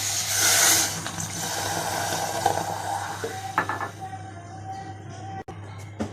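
Water poured into a pan holding sugar to make syrup for rasgulla, a bright splashing rush at the start that settles into softer trickles and a few light clinks of the pan.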